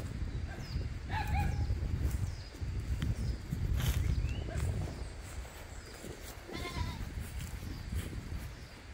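Several goats bleat in short calls near a goat pen at a rural herding spot, with livestock movement and footsteps mixed in and people talking now and then in the background.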